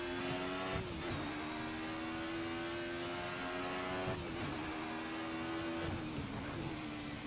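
A 90's DTM race car lapping the Nürburgring in a sim, its engine droning steadily with pitch drops at gear changes roughly every few seconds, loud and close with no talk.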